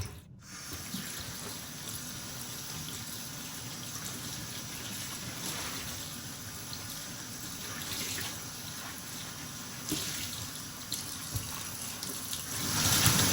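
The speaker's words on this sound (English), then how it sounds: "I'm going to pour out the dye and give everything a rinse" A kitchen tap runs steadily as freshly dyed fabric scraps are rinsed beneath it, a continuous close splashing hiss with small surges and drips, going on for a long stretch without voices.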